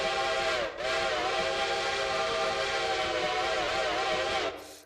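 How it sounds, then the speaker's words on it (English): Railroader game steam locomotive whistle, CSR Reading locomotive, blowing a long loud chime-like tone with a brief break near the start, then holding steady before fading out. "You will actually have an authentic whistle in your game."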